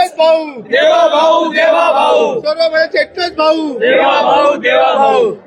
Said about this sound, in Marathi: जो जल्लोष आहे तो भाजपच्या या कार्यालयात आपल्याला पाहायला मिळतो